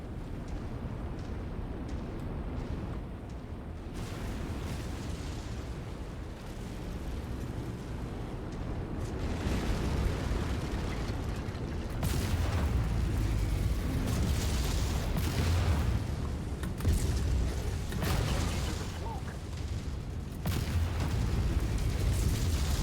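Heavy explosions tear apart an installation in the MechWarrior 5 video game, a sustained rumble of booms and blasts continuing loudly throughout with layered bursts and crackling debris.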